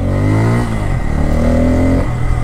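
A Bajaj Pulsar N250 motorcycle engine revs loudly and close by, its tone rising and falling through a couple of throttle blips with a steady rumbling idle underneath.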